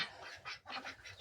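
Several ducks in a backyard pen give a run of rough, overlapping quacks in short pulsing bursts, fairly close and moderately loud against a faint outdoor background.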